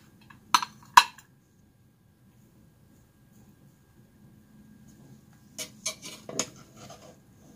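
Clinks and scrapes of utensils against a dish while serving Punjabi mutton pulao, a couple of sharp taps early, then a cluster of lighter clatter after a quiet pause.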